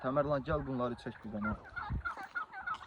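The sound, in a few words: turkeys gobbling by a river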